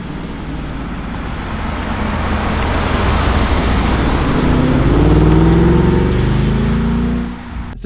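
A Ford Mustang GT with a 5-litre V8 and automatic gearbox cruising, its engine a steady loud rumble with road noise that swells slightly mid-way as it pulls, then eases off at the end.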